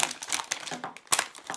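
Zip seal on a plastic package of fluffy slime popped open, a run of sharp crinkling, snapping plastic bursts with one louder crackle near the end, close and alone.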